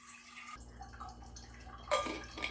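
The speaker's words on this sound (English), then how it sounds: "We're going to fill up some water." A water bottle being filled from a tap, a steady trickle that starts after a brief pause, then rises into brighter splashing toward the end, with no talk.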